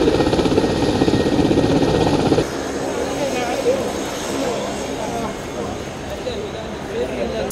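Heavy aircraft engine roar during a UN airlift operation carrying food and equipment, loud and steady for the first two seconds, then continuing as a lower, rougher rumble with voices talking over it.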